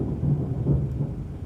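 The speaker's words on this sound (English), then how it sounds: "Going right under the storm." Thunderstorm rumble with steady rain heard from inside a moving vehicle, a continuous low roar with a couple of swelling thunder rolls, fairly close and loud, with no speech.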